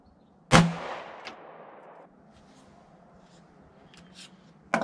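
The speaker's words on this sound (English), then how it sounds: "let's just sight this thing in and give it one fire" A single sharp pistol shot from a Taurus GX4 fitted with a Holosun optic rings out on a range during zeroing and decays over about a second. A faint click follows, then another sharp sound at the end.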